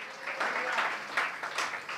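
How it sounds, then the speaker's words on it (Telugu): A church congregation claps loudly together during a sermon, a dense, steady burst of applause filling the room with uneven swells. "కొట్టోసారి గట్టిగా చప్పట్లు"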